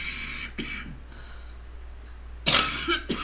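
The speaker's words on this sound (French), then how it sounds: "je suis obligée de faire pause de temps en temps pour tousser et me moucher" A woman coughs indoors, two separate harsh bursts close to the microphone, the second louder, with quiet gaps between them.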